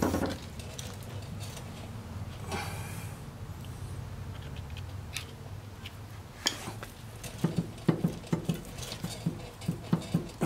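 Metal clicking and knocking from a TCM FG25N2S forklift front hub that has a bit of play, a run of close, sharp taps that grows busier toward the end over quiet background hiss.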